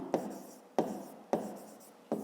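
Pen writing on paper up close: four quick, evenly spaced scratchy strokes, each starting sharply and fading, with nothing else around them.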